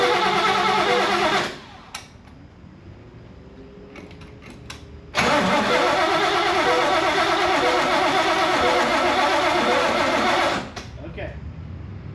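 A car engine cranks over on a battery that is being charged but never catches: two long, loud, continuous bursts of cranking separated by a quieter pause.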